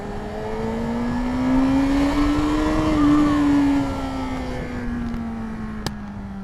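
A 600cc motorcycle engine held at a high steady rev, a loud continuous whine that rises slightly in pitch and eases back down, close to the listener.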